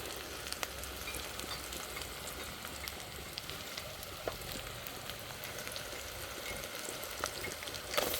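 Soft, continuous sizzling of potatoes, eggplant, beans and peas frying in a wok, with faint crackles and occasional light scrapes, fairly quiet and steady throughout.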